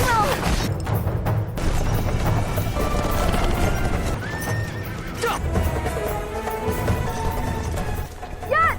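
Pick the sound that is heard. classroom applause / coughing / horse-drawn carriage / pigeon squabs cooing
horse-drawn carriage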